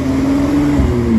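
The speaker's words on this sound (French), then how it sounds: "Encore une fois, pour changer, un très joli V12 italien." A Ferrari 812 GTS, the Italian V12 sports car, passes on a Monaco street with a smooth, loud engine tone that holds steady and rises slightly over a moment, heard close and alone.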